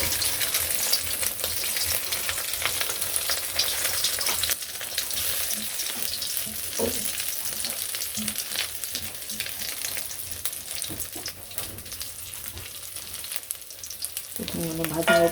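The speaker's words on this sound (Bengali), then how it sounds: "তো এই তেলের মধ্যে ডিমগুলো ছেড়ে দিলাম" Eggs fry in hot oil in a wok, giving a loud, continuous crackling sizzle that holds steady for the whole stretch, with a brief clatter near the end.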